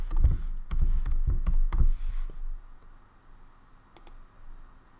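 A computer mouse clicks several times in quick succession at a desk, crisp and close, then a couple of fainter isolated clicks follow in a quiet room.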